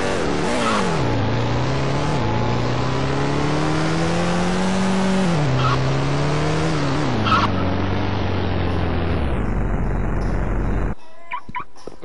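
An all-black 2023 BMW driving in a Roblox game, its engine droning steadily and rising in pitch as it accelerates and shifts, loud and continuous until it stops abruptly near the end.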